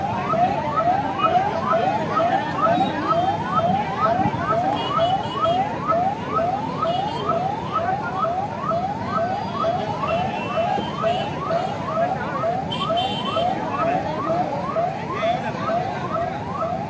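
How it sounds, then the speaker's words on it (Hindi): An ambulance siren wails in a fast, regular up-and-down cycle as the vehicle moves past, loud and sustained over low traffic rumble, with no talking. "आप देखिए किस प्रकार से एम्बुलेंस निकल रही है।"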